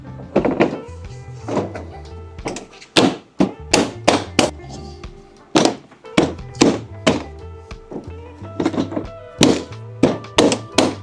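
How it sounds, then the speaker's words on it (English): A car bumper being refitted, with repeated hollow plastic thunks and knocks as it is pushed and tapped into place, loud and close in an irregular rhythm. "For this last step, all we're going to be doing is putting the bumper back"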